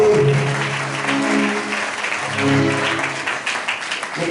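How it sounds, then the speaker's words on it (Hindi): A church congregation claps steadily and loudly for several seconds, with a few voices calling out beneath the applause. "छोटा ताली बजाओ यीशु मसीह के लिए।"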